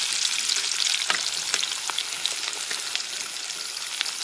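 Onions frying in oil at a forest campsite, a bright steady crackling sizzle with scattered small pops and light scrapes of a spoon stirring, no speech.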